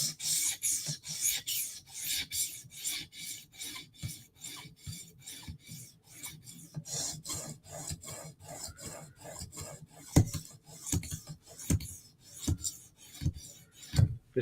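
K390 steel knife blade drawn across a 360-grit sharpening stone in a quick series of rasping strokes, each a short scrape with an even rhythm, close and fairly quiet.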